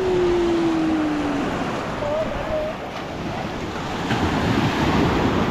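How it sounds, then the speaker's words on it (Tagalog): Big ocean waves surging onto a beach where a fishing net is being hauled in, a loud continuous roar of surf with wind buffeting the microphone and a faint whistle-like tone early on. "Lalaki ng alon."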